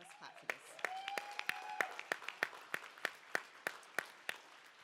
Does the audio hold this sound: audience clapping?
yes